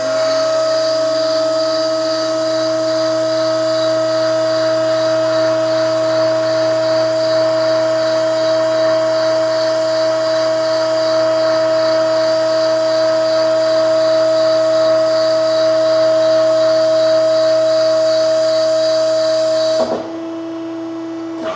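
A mandrel tube bender works a Corvette frame rail, its hydraulic machinery giving a steady, even whine with a constant tone for about twenty seconds before it abruptly stops and drops to a lower hum.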